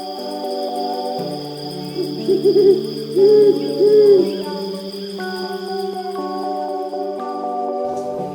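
An owl gives several clear, hollow hoots in a slow series over a steady background of night insects, loud and close.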